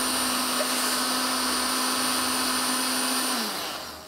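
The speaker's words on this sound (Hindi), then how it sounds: "सब कुछ एक साथ ब्लेंडर में डालें और घुमा दें" An electric kitchen blender whirs steadily at a loud, close, constant pitch, its motor whine holding for several seconds before winding down near the end.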